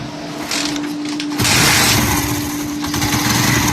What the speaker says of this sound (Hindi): तो अब हम इसको स्टार्ट करेंगे